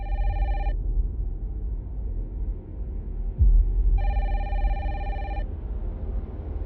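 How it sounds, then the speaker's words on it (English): A telephone rings in two electronic bursts separated by a pause of about three seconds, standing out clearly over low background rumble. "Answer your fucking phone"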